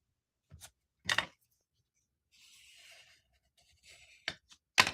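A pencil scratches around a paper template in short strokes, with sharp contact noises and a longer soft scraping stretch in the middle, close and quiet with silence between.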